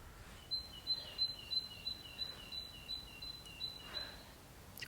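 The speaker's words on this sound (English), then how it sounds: "It's quite lovely with the birds." Birds sing at an allotment on a quiet winter day, a repeated series of faint high chirps and trills carrying from some distance over near silence, with no talking.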